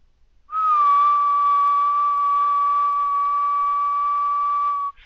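A person whistles one steady pure tone, clear and sustained for about four seconds with no pitch change, starting and stopping abruptly in an otherwise quiet room.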